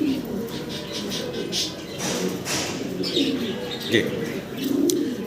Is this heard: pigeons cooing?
yes